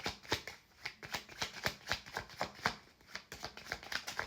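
Animal oracle cards shuffled by hand in a quick, rhythmic run of crisp riffling bursts, close and clear with no one talking.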